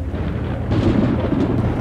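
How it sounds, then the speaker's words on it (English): Deep rolls of thunder rumble low and heavy, swelling partway through into a louder booming roll with a faint rain-like wash beneath. "Suddenly, the sky went dark and black, and there were deep rolls of thunder."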